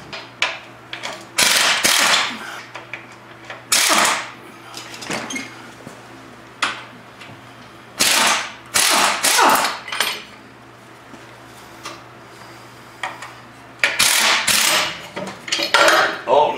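Metal tools clank and clatter in bursts while an alternator bracket is removed from a Ford Bronco II, with sharp close knocks separated by quieter pauses and no talking.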